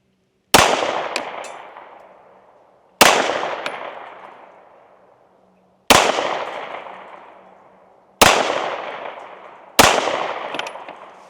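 Springfield Armory XD Mod 3 pistol firing Hornady defensive ammunition outdoors: five loud, sharp shots spaced a few seconds apart, each followed by a long echoing decay.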